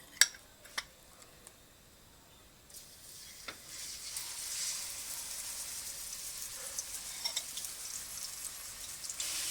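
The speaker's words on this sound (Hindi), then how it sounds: "यहाँ पे मेरा ऑयल गर्म है, इसमें मैंने चिकन जो मैरिनेट किया है उसको मैं अब फ्राई करने लगी हूँ।" Marinated chicken frying in hot oil over a medium flame, a steady soft sizzle that builds after a few seconds, with occasional sharp crackles and clinks of a utensil against the pan.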